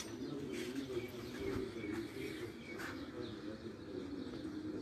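Pigeons on a rooftop during a pigeon-flying event in Pakistan, soft repeated cooing close by over a steady outdoor murmur, with a few faint chirps mixed in.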